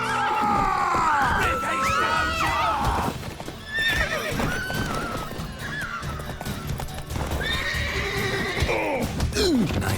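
In The Witcher video game, a horse neighs and whinnies loudly several times over steady clip-clopping hooves, with game voices briefly in the background.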